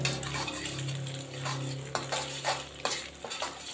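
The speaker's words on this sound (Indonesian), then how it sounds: "Ini saya orak-arik aja dengan secukupnya minyak 3 sendok makan minyak." One egg scrambling in a few tablespoons of oil in a frying pan makes a soft sizzle under repeated scraping and stirring strokes of a spatula against the pan, close and fairly quiet.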